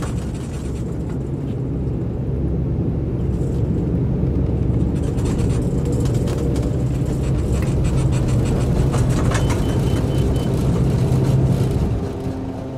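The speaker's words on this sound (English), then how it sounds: "We got those sound effects as well as we roll down the runway." A steady, loud engine roar with rumbling low end and rising whine, continuous throughout as an aircraft rolls down a runway in Microsoft Flight Simulator, no talking.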